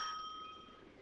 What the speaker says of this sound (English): It's only the front doorbell.